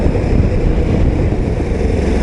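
A KTM 1290 Super Adventure S motorcycle engine pulls steadily while riding, a loud, continuous low rumble mixed with wind noise and no break over its short length.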